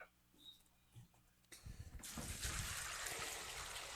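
Water gushes out of a pond filter during backwashing, starting faintly with small trickles and then swelling after a second or two into a loud, steady broadband rush that continues to the end.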